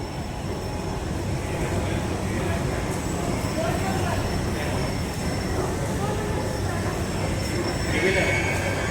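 Mumbai's underground metro rumbles along between Siddhivinayak and Aarey, a constant loud, dense roar inside the carriage with a faint high whine running throughout and a voice speaking over it.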